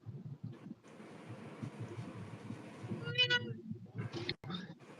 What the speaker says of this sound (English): if you hear any meowing, it's my cats.